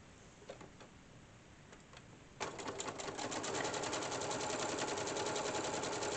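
After some faint ticks, a sewing machine starts stitching a fabric teabag holder and runs as a steady, rapid mechanical whir for several seconds, close and fairly loud.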